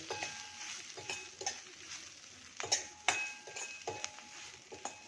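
Spoon stirring a spiced masala chili mixture with garam masala, roasted cumin powder and salt in a pan, with repeated scraping and clinking strokes, fairly quiet and close.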